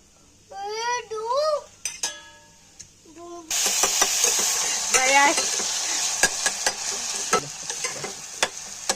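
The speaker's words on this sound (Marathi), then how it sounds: "मोहरीची फोडणी देऊयात सर्वप्रथम।" Mustard seeds spluttering in hot oil for a tempering before an eggplant curry, a sudden loud sizzle bursting in midway and continuing with sharp crackles and spoon scrapes against the pan, preceded by someone talking.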